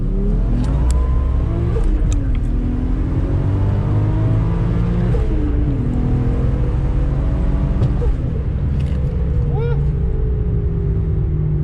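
Car engine pulling hard through a corner, revving up and down with rising and falling pitch sweeps, loud and continuous under steady road and wind noise.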